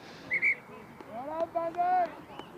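At a club rugby union match, a referee's whistle gives a short sharp blast early on, then someone commentator talks over faint crowd and wind noise.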